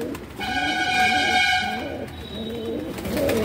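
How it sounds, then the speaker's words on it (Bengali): A male pigeon coos nearby in soft, repeated throaty rolls, while a high steady whistle-like tone briefly sounds in the background. "খুব সুন্দর পায়রা।"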